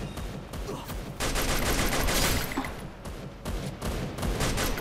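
Rapid machine gun bursts from Free Fire's training mode crackle in dense, loud volleys, pausing briefly between strings of shots, with no voices over the gunfire.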